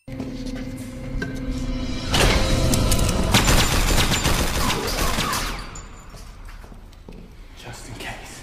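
Gunfire in the 2008 film Day of the Dead as a soldier empties his weapon down a hallway, a loud sustained rattling burst of rapid shots that swells and then fades, with speech over it.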